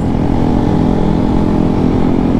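A group of about ten Vespa scooters rides alongside on the road toward Tagaytay, their engines a loud, steady, close drone that fills the whole stretch with no pauses.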